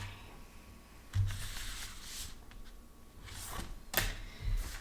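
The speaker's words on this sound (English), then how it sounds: "so that's why I'm spreading the cards out" Tarot cards from an Ancient Lemuria deck slide and rustle as they are spread across a table, making soft close swishes with a couple of brighter scrapes.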